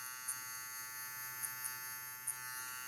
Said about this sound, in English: You can hear when it stops cutting